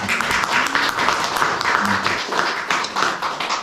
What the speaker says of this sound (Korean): 다 같이 하나님께 박수로 영광을 돌리겠습니다